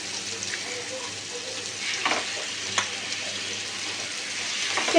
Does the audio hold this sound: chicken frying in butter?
yes